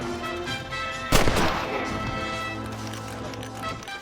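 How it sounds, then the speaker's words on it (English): A single loud gunshot cracks out in the video game Red Dead Redemption, fired at a man's leg, then rings off into a sustained echo and game ambience. "I shot him in the leg."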